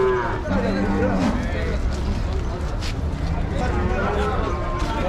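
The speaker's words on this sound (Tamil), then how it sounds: "மாடு" Cattle low repeatedly at the Vaniyambadi cattle market, several drawn-out moos over a constant crowd murmur, with people talking nearby.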